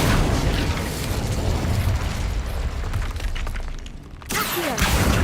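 A fire spell cast in the video game Hogwarts Legacy, a loud, roaring burst of flame that dips briefly near the end before a second fiery blast surges back in.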